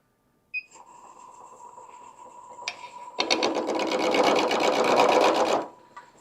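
A Shopsmith wood lathe spins an ash blank at about 1,000 RPM. The motor starts with a steady whine, then swells into a louder, dense rattling buzz for a couple of seconds before winding down.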